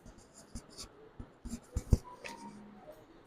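An integral for a 12th-class math exercise being written out by hand: faint, close pen scratches come in short irregular strokes with a few sharper taps, and no one speaks.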